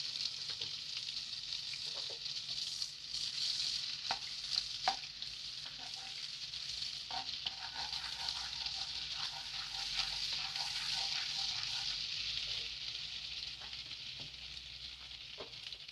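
Butter and oil sizzling steadily in a pan while butter chicken is cooked, a dense continuous frying hiss with faint stirring clinks, close and even throughout with no talk.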